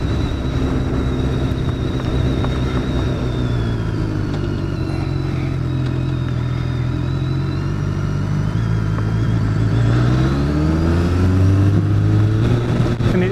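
BMW K1300S motorcycle engine heard while riding away from Gatwick on a sunny day, a continuous close rumble with wind, its pitch sinking and then climbing as the rider shifts and accelerates.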